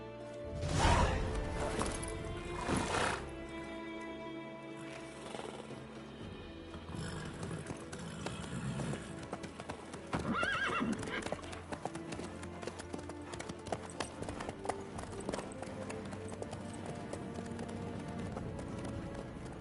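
Horse hooves clip-clop in a steady trotting rhythm in the video game The Witcher III: Wild Hunt, with a brief whinny near the start and game music playing underneath.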